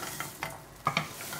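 Walnuts and sesame seeds being stirred into thick, glossy red date paste in a pan, giving soft sticky scraping and a few light clicks of a spatula, quiet and close.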